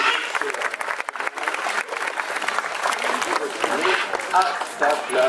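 Zoo visitors at La Palmyre applaud a parrot demonstration, scattered clapping from a crowd mingled with voices and chatter, and bird calls chirping near the end.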